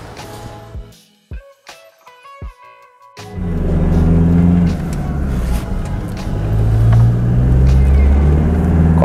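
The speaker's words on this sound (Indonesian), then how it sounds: "Yuk kita cobain mobil Hilux ini." A few clicks and knocks, then a Toyota Hilux pickup with reworked rear suspension starts and runs with a loud, steady rumble that swells slightly as it drives.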